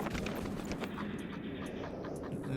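Horse hooves galloping in the Dragon Age Inquisition video game, a steady rapid clip-clop run out close and continuous under game ambience.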